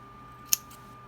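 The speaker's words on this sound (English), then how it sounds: "I'm going to cut through these loops with my scissors" A single quick snip of scissors cutting through the yarn loops of a pom-pom, close and crisp against a quiet room.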